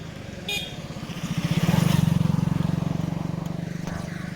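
A motorcycle engine idles close by with a steady low throbbing rumble that swells louder after the first second and holds, with a short higher tone near the start.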